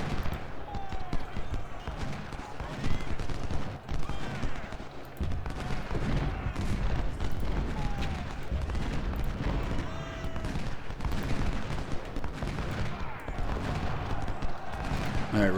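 Massed musket volleys crackle throughout a Civil War battle in the Ultimate General: Civil War game at Seven Pines, dense overlapping gunfire rolling continuously at steady loudness with scattered shots over a busy battle din.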